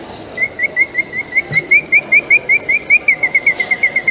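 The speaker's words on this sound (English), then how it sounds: "Now, David, a singing bird in a cage." A mechanical bird chirps in a steady run of quick, high whistled tweets, bright and repetitive, with a faint whirring mechanism underneath.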